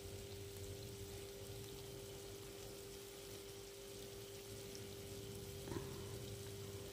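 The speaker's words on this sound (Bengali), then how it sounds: "এবার এইভাবে ভালো করে এটাকে একটুখানি কষাবো" Coriander and cumin powder spice paste for Bengali lote fish curry sautéing in a pan: a quiet, steady sizzle with a faint hum beneath and a brief clink near the end, no voices.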